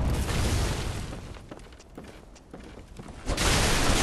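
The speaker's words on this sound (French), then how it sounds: "Il tire au canon." Deep booming blasts rumble over dense background noise, swelling, easing off briefly, then surging loud again like heavy game cannon fire.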